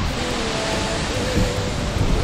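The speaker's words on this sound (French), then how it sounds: "mais il y a un gros vent" Strong wind roars steadily in the Dolomites after rain, as broad, rushing noise, buffeting the microphone with a few louder gusts and no voices.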